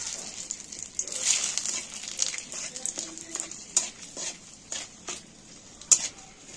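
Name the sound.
bay leaf and dry red chilli frying in oil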